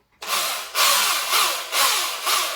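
A Fisch 10-inch drill grinds into wood in four loud, steady bursts with short pauses between them. The drilling is close and harsh, with no talking over it.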